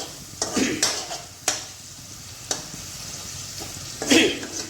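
Mutton frying in a pressure cooker pot while being stirred, with a soft sizzle under sharp scrapes and clinks of a spoon against metal, several distinct strokes spaced across the moment.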